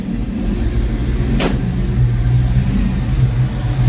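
A Fox-body Ford Mustang with a blinking check engine light idles on its own, giving a steady, close, low engine drone broken by one brief click.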